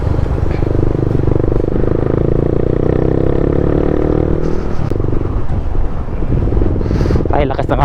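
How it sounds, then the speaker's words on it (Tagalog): Strong wind buffets the microphone during a motorcycle road test in Baguio City, a steady loud roar over engine noise for most of the ride, easing near the end where some clatter and voices come through. "Ay, lakas ng hangin."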